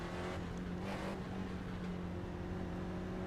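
A spec Ford race car engine drones steadily at the Nürburgring in the sim racing game iRacing, a constant mid-level hum with no clear revs or passes, fairly quiet.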